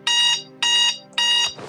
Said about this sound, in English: curse my luck for having an alarm clock